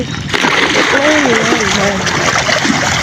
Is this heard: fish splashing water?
yes